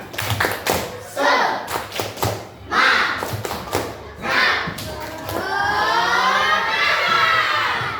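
Fifth-grade elementary schoolchildren in a classroom perform a rhythmic spirit clap, bursts of patterned claps and thumps mixed with shouted chanting voices, ending in a sustained noisy group cheer.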